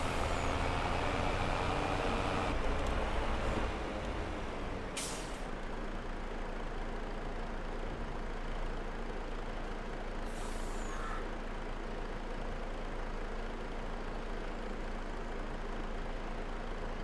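Tractor hauling a loaded manure trailer in Farming Simulator 22, a steady low engine drone running throughout with a brief air-brake hiss and faint beeps near the start.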